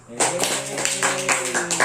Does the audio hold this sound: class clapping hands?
yes